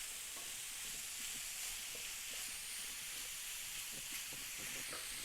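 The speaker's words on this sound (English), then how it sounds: "We just lightly want to fry this very lightly." Lebanese ejjeh omelette frying lightly in a pan, a soft steady sizzle and hiss with faint scraping stirs, quiet and continuous, no voices.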